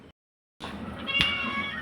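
A single cat meow rings out close by after a brief silence, clear and drawn out over a low background hiss.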